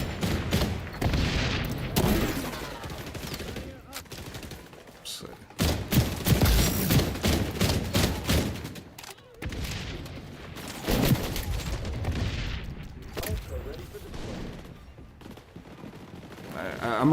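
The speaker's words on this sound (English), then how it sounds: "This is a really good Marksman rifle." Marksman rifle fire on the Rockefeller map in the video game XDefiant: a dense, continuous stream of loud shots and booms, with a player talking over it throughout.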